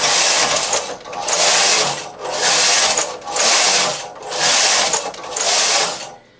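A knitting machine carriage slides back and forth across the needle bed while knitting rows for a baby bootie: five loud, close, rhythmic whirring rattles with brief gaps between passes and no talking.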